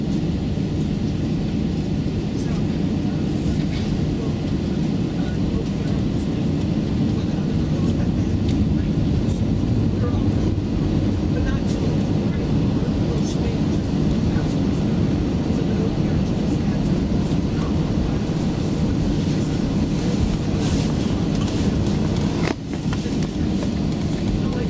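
Steady, loud roar inside an American Airlines Airbus A321-211 cabin at Los Angeles International Airport before departure, a continuous engine and airflow hum with a public-address announcement heard over it.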